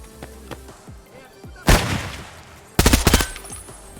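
A short, hard-to-control rifle in Escape from Tarkov fires two close, loud bursts of rapid shots with a pause between them, over faint background game noise.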